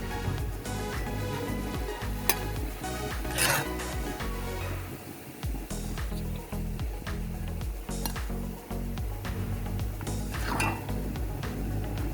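Fried soya chunks are scraped and moved from a pan into a bowl, with steady metallic scraping and clinking of a utensil against cookware throughout, close and moderately loud.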